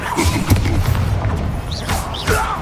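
Spell impacts from Expelliarmus in the video game Hogwarts Legacy, a loud close boom with thudding hits and whooshing magical bursts in quick succession.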